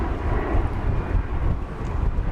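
An airliner departing DFW Airport on the runway for a flight to Las Vegas gives a steady, loud broadband engine roar with a heavy low rumble and wind buffeting, with no talk.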